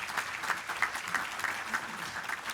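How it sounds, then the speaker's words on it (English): Audience clapping at a State of the City address, a quiet, even patter of many hands heard from a distance, brief and continuous. "let's give all those hardworking unsung heroes a big round of applause as well."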